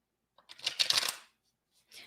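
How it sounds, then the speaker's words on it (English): Bohemian Secrets tarot cards being shuffled, a brief crisp riffling burst of about a second, fairly close, then a short soft rustle after a pause. "I am shuffling my deck"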